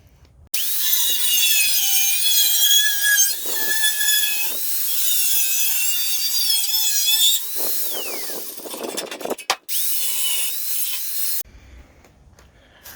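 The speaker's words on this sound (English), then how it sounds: "Get the hole drilled through it." A power drill whines steadily at high pitch for several seconds, drilling a hole through metal on a truck's core support, with pitch dips and bursts of grinding, then cuts out, leaving quiet.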